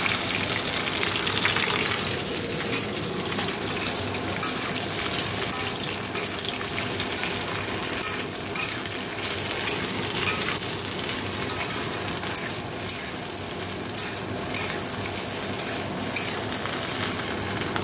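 Chopped okra, pointed gourd and onion frying in a home kitchen pan, a steady dense sizzle with occasional crackles and stirring scrapes, continuous and close throughout.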